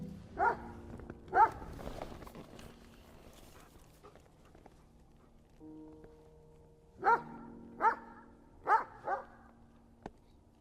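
A dog barks in a forest at night: two sharp barks early, a quieter stretch, then a burst of four or five loud barks close by, with no voices.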